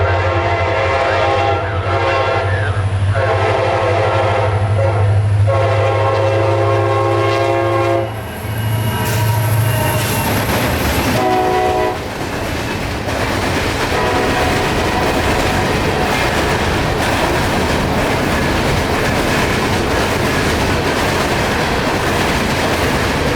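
Local freight train 0704 hauling empty rock hopper cars rolls past near Tampa at speed, a long horn blast early on giving way to a loud, steady roar and rattle of wheels and cars that holds to the end.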